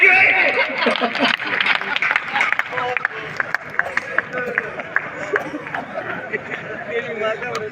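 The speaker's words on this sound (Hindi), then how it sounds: "सारे लोग ताली बजाओ" An audience at a Holi poetry gathering in Sujangarh bursts into scattered applause that thins into intermittent claps, with crowd chatter and a voice mixed in.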